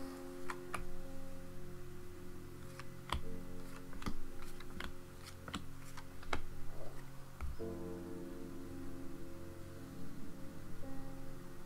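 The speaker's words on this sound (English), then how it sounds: "Let's cut the deck. And I'll deal out 6 cards." Tarot cards being cut and dealt out, a run of sharp light card snaps and taps at irregular intervals over a steady low room hum, with a slightly fuller shuffle of cards near the end.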